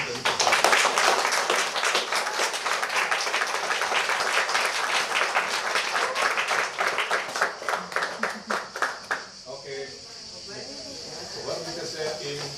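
An audience at a Chinese-language summer school in Ankaran claps in a dense burst of applause that thins into scattered, separate claps near the end, fading to a quiet room.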